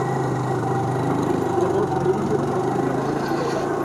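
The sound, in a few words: motorcycle engine running, Hero Splendor-type bike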